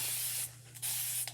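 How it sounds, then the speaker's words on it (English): A spray bottle mists water onto a reusable chalk transfer in three quick hissing bursts, close and crisp, over a steady low hum. "take this and spray your reusable transfer"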